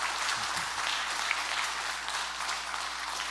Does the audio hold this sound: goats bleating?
no